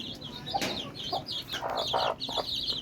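Young chicks in a backyard poultry pen chirp and peep in quick high bursts, close and fairly steady with brief clucking mixed in.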